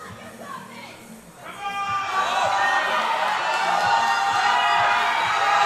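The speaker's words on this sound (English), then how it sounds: "Applause." A crowd at a powerlifting championship swells into loud, sustained cheering and applause during a woman's deadlift attempt, rising from a quieter start into a steady roar with shouts and whoops mixed in.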